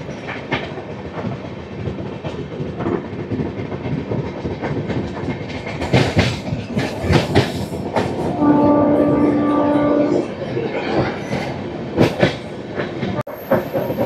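Passenger train on the Visakhapatnam to Araku line running on after a station halt, a loud rumble with rhythmic wheel clatter, squeals and a brief horn-like tone midway.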